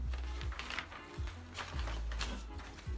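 Scissors cut fabric for a flounce lining in a series of regular, close crunching snips about every half second, with no talking.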